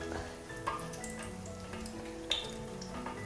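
Grated potato pancake batter fries in hot oil in a pan, a soft continuous crackling sizzle with scattered small pops, fairly quiet and with no voices.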